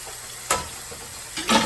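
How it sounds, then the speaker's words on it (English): About three tablespoons of minced garlic hitting a hot pan while cooking spicy rum peach wings, two quick bursts of sizzling over a quiet background hiss. "To that, I'm gonna add about 3 tablespoons of minced garlic"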